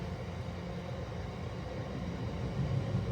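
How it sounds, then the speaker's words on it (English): A steady low rumble of a train passing at a distance, continuous and even with a slight swell near the end. "that train's still there. That is a big train."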